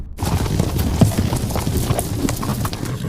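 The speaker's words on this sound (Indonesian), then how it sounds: "Tiba-tiba ia pun melihat segerombolan pria berkuda yang berjalan mengarah ke rumahnya" A group of riders on horseback approaches a house, their hooves clip-clopping in a busy, overlapping rhythm. The steady clatter is loud and near from the start.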